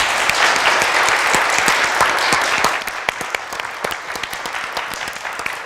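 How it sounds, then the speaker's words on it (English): An audience breaks into loud, dense applause, many hands clapping together at close range, easing slightly in strength toward the end. "Please, everyone, a round of applause for Mrs. Mercy AHIZE."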